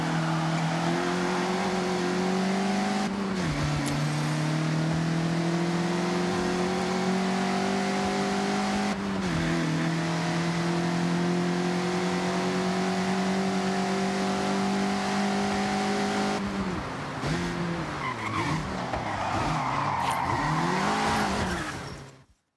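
A Mazda MX-5 in the Forza Horizon 6 video game revs hard and holds a loud, steady engine drone through sustained sideways drifts, with sudden gear-change drops in pitch and rising tire squeal toward the end.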